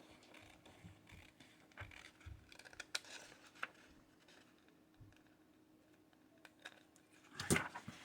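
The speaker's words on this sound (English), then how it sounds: "I'm going to trim just a touch off of here." Scissors trim paper for a junk journal, heard as faint, close snips and small paper rustles scattered over the quiet, with a sharper cut near the end.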